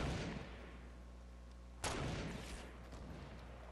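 Video game gunfire booms in two heavy, echoing blasts a couple of seconds apart, fairly faint and distant with a rumbling tail, and no voices.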